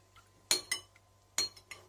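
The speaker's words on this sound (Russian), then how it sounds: "перемешиваем" A spoon clinks against a bowl while a honey and lemon dressing is stirred: four or five sharp, close taps in two pairs, with quiet pauses between them.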